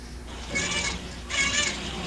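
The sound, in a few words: cat meowing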